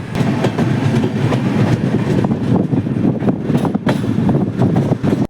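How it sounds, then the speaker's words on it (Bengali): A passenger train pulling out of Farakka rolls along steadily at night, a dense rumble with repeated clattering of wheels on rail joints, loud and close from inside the carriage. "ফরাক্কা থেকে আমাদের ট্রেনটা ছেড়ে দিল"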